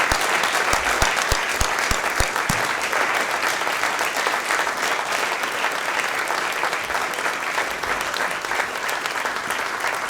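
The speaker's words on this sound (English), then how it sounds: "Please join me in a round of applause." Steady, dense applause from the audience at the Richland Police Department's 2017 awards ceremony fills the whole stretch, loud and continuous without pause.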